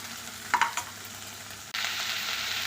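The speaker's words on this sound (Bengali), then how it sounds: "ঢেঁড়স আর পেঁয়াজটা ভালো করে ভাজা হয়ে গেছে" Okra and onion fry in a pan with a soft, even sizzle. A few clinks of stirring break in, then the hiss swells louder and stays steady.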